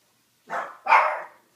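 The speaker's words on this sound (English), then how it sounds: "Oh, my dogs are going crazy, sorry." Two sharp dog barks in quick succession, fairly close, the second louder and longer, with silence around them.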